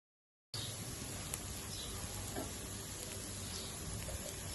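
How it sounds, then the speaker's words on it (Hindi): Finely chopped capsicum fries in a pan for chicken Manchurian, a soft, steady crackling sizzle that starts after a moment of silence and continues evenly, faint and without talk. "4 से 5 मिनट के लिए शिमला मिर्च को भूनेंगे।"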